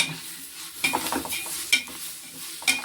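Mutton biryani ingredients with coriander and mint being stirred in a pot: soft scraping strokes and a few sharp utensil clinks against the pot over a faint sizzle, with no talk.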